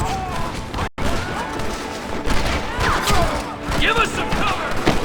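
Gunfire in a Red Dead Redemption firefight, rapid cracks and smashing impacts tumbling over one another at close range, with shouting voices mixed in and a brief dropout near the start.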